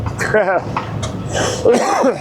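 A couple of short, rough coughs at close range, with throat-clearing sounds.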